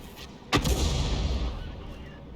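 An M53/M55 self-propelled gun fires a standard round in a video game, a single loud booming report with a sharp onset followed by a long rumbling decay, over faint background noise.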